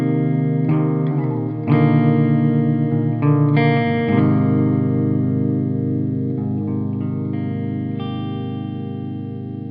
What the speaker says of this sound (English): So my dry signal sounds like this.